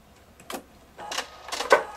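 Pfaff Performance 5.0 sewing machine stitching in three short bursts, each a brief whirring run that grows slightly louder, with quiet pauses between them and no talking.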